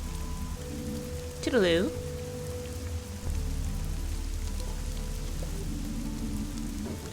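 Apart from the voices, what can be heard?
rain falling in Fall of Porcupine video game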